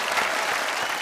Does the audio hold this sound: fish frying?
no